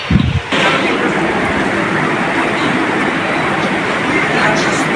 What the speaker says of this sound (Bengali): বাইরে বৃষ্টি হচ্ছে আপনাদের দেখাই চলেন